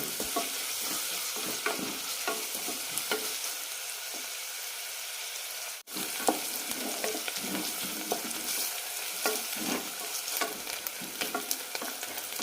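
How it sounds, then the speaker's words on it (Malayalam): Chopped onions sautéing in a pan for kuska biryani, a steady close sizzle and fry with repeated scraping stirs throughout, one brief break midway, no voices. "സവാള നല്ല കണ്ണാടി പരുവാകുന്നവരെ വഴറ്റിയെടുക്കാം."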